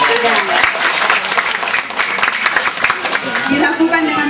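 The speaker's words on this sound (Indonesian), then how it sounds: "Kasih aplaus dulu." An audience at an event in Loa Duri bursts into a sustained round of applause, with close, crackling claps that carry on for the full few seconds at a lively, even level.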